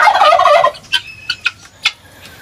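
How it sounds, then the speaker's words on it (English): Guinea fowl on a farm giving a loud, harsh gobbling burst, followed by several shorter, sharper calls spaced irregularly, close by. "This is a guinea fowl."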